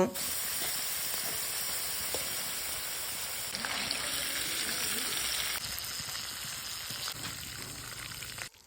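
Jackfruit pieces frying in oil for a jackfruit and prawn curry, a continuous hissing sizzle at moderate level with a couple of soft stirring knocks, and no speech.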